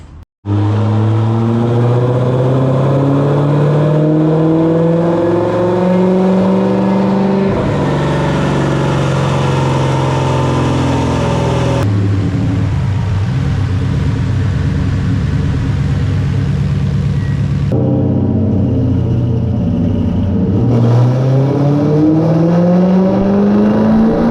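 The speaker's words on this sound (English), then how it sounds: "Loaded up on the dyno, and we're going to see what kind of power it makes" A Coyote-swapped 1993 Mustang Cobra with a 91mm turbo revs hard through repeated pulls on a dyno, pitch climbing steadily then dropping and climbing again, loud and close with no talking.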